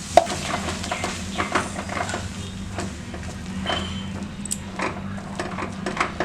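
Grated ginger with cardamom fries in ghee in a pan while being stirred, giving a soft continuous sizzle broken by repeated scraping strokes and light clinks of the spoon against the pan.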